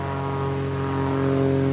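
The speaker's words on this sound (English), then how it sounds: "that's a float plane" A float plane drones overhead in Alaska's Kenai Peninsula, a steady, faint-to-moderate engine hum with layered tones that grows slightly louder toward the end.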